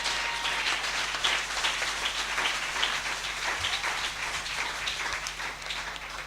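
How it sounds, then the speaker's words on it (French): Church congregation clapping together during a French-language worship service, a dense steady patter of many hands lasting throughout, fairly close and full, with no talk over it. "you put your hand together?"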